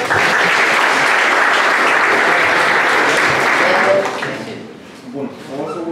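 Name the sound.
audience applause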